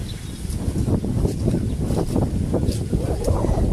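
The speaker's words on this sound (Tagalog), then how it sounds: "Sobrang hangin po." Gusty wind buffets the microphone outdoors with a low rumbling roar, while someone speaks nearby and leaves faintly rustle.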